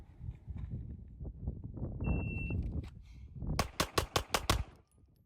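A DUSK 19 Glock-clone pistol fires a rapid string of five sharp, loud shots close by, following a stretch of low rumbling and handling noise with a brief timer beep.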